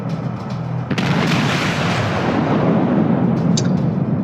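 Naval gunfire in World of Warships from a German cruiser, the Königsberg: a heavy booming salvo rolls in and rumbles on as a loud sustained roar.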